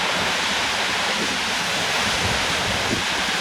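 River water crashes over rocks and sprays in Iceland, a dense, steady roar of rushing whitewater close by, unbroken from start to finish.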